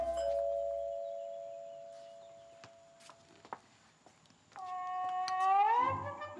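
A doorbell chimes in a drama scene. One sustained ding tone fades out, a few light taps follow, then a second chime sounds and swells in pitch near the end, heard alone.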